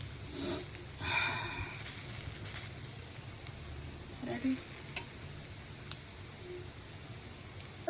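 Spices frying for tempering (mustard seeds) in a pan, a faint steady sizzle with scattered pops and crackles, close and quiet.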